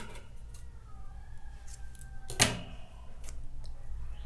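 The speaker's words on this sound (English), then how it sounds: "chain 1 and cut your yarn" Scissors cut crochet yarn with a single sharp snip, close and clear, against a quiet room background with faint handling noises.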